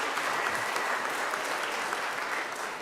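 Dense, continuous applause from a crowd at a choir concert, steady and full throughout with no pauses.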